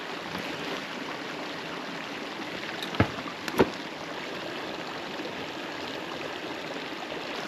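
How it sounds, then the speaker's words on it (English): Steady broadband rush of a flowing mountain creek nearby in Yosemite, continuous throughout with a couple of brief sharp knocks midway. "The creek's just right over here."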